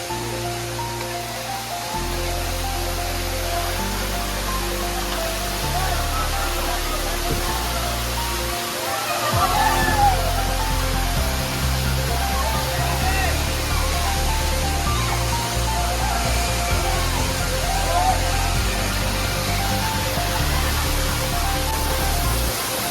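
A constant roaring rush of falling water at Manche waterfall in Devgad, Konkan, heard up close from a seat behind the falling water, steady and broadband throughout with no voices.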